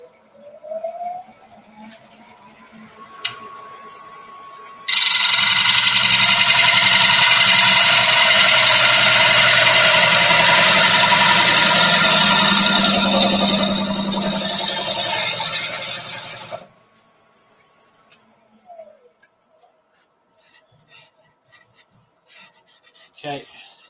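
A gouge cuts wood on a spinning lathe in one long sweeping pass, a loud steady rasping and scraping roar over the motor's hum, with quieter lathe running before and after.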